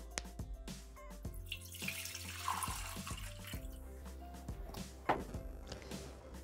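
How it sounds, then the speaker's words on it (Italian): Water poured into a Thermomix mixing bowl in a kitchen, a steady low-level splashing and running flow with a few small knocks and clinks, heard alone without talk. "Iniziamo la ricetta mettendo all'interno del boccale l'acqua."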